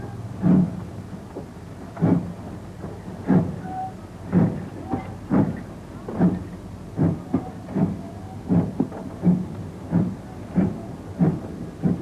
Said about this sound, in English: Got to get the train moving.